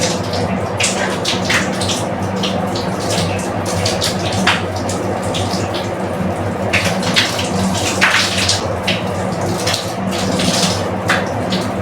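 Water runs loudly and continuously from a tap in a Manila boarding house, splashing and gurgling with irregular spatters while something is rinsed.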